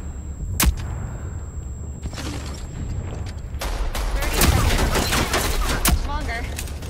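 Rogue Company gunfire in a Strikeout match: several loud booming shots and volleys of gunfire spread across the clip, over a steady low rumble, with faint voices in the background.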